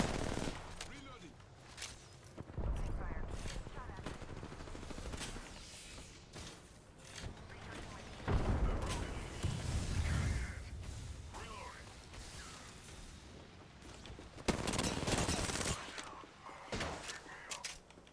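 Bursts of video game gunfire crack out in rapid clusters through a shooter match, loud and repeated, with a voice talking over much of the action.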